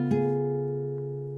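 One guitar chord on a guitar played fingerstyle: a single bass note on the fifth string, then a quick sweep across the other strings that rings out and slowly fades.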